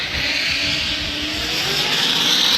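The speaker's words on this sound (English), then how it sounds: "Borla exhaust note, here we go" A Corvette drift car with a Borla exhaust roars steadily at a Formula Drift qualifying event in New Jersey, a loud sustained engine note held close and continuous with no talk.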